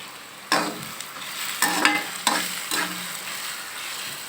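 Mango rice is stirred in a hot pan over a constant sizzle, with several distinct scraping strokes spaced about a second apart and no talk.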